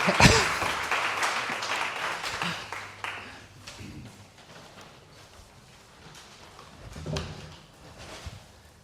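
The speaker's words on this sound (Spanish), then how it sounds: "quería un fuerte aplauso para Luis Pablo García Coronado" An audience at a keynote lecture breaks into applause, a dense burst of clapping that is loudest at the start and thins to scattered claps and faint room noise.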